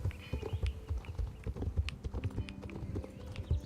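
Horse hooves clip-clop steadily and close in the online game Star Stable, a brisk repeating gallop-like rhythm that carries through the whole stretch with no talking over it.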